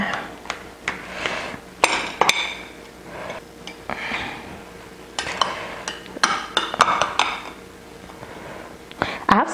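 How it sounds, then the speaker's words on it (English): Knife cutting a slice of plantain frittata on a plate, a run of irregular clinks and scrapes of metal against crockery, close and moderately loud, with sharp taps scattered throughout and no voice. "So I'm just going to cut a slice for myself."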